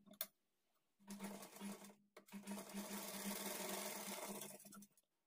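A sewing machine stitches a half-inch margin seam on a blouse lining, running in two short bursts of rapid, even needle chatter with a brief pause between them, close and clear with no talking.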